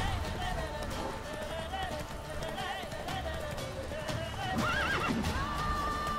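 Roach, the horse in The Witcher 3, lets out a clear whinny over steady clip-clopping hooves, with game sounds filling the background.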